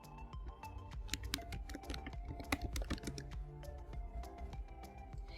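Fast typing on a computer keyboard, close and clear, with a dense irregular clatter of key taps and occasional heavier strokes, no voices.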